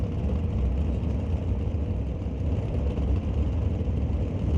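NHRA drag racing cars at the Canadian Sportsnationals qualifying, heard as a steady, loud low engine roar that stays constant and distant-sounding throughout, with no breaks.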